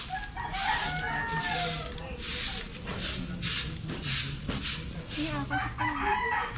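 Chickens in a coop cluck and crow near by in repeated bursts, with a rooster's crow standing out over a busy, steady background of farmyard noise.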